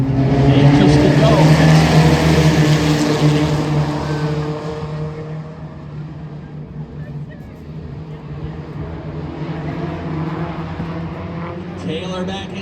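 Four-cylinder pro race cars roaring around Wiscasset Speedway, engines loud and close at first, then fading as the pack passes and drones on further away, with a race announcer talking over it.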